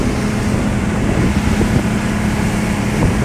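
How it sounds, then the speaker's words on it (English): Steady droning motor hum with constant low rumble and rushing noise, like a boat engine running at speed, unbroken throughout. "the background sound of a massive outboard motor"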